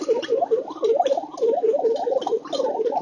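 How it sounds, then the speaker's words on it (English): Vacuum pump drawing the air out of a sealed tube for a free-fall demonstration, giving a close, gurgling, pulsing whir that rises and falls in quick regular cycles, about three per second, with no talking. "that is the sound of the vacuum tube emptying air out of the container."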